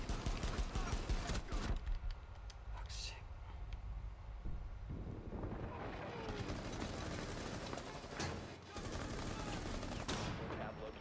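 Rapid bursts of gunfire from a Rainbow Six Siege search-and-destroy match crackle in quick volleys, with a voice speaking over parts of the action.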